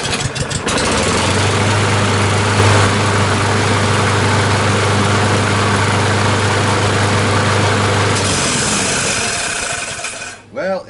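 A Kohler 149cc XT engine on a Lawn-Boy all-wheel-drive mower runs loud and steady with a strong low drone and rough mechanical noise, then cuts off near the end as it winds down.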